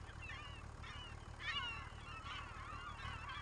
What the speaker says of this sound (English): You can hear the gulls.